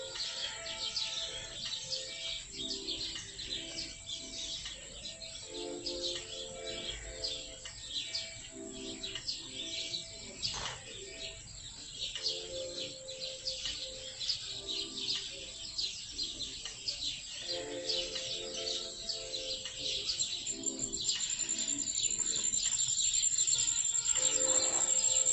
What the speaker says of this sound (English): Those birds going crazy. Definitely some migration happening. Big flocks and flocks of birds,